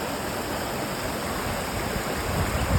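A stream flowing along the Pacific Crest Trail gives a loud, steady rush of water that fills the whole stretch without a break.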